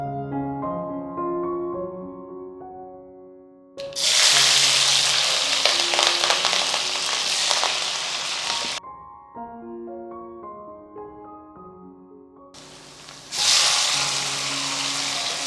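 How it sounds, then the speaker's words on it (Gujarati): Mustard seeds and cumin tempering in hot oil for a moong curry, giving loud bursts of sizzling and crackling that start abruptly and cut off, alternating with quieter stretches under soft background music. "વઘાર લઈ લઈએ"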